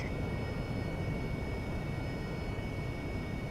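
Steady broadband roar of a jet aircraft engine in a flight simulator game, with a thin high whine above it, holding at constant loudness throughout with no voices.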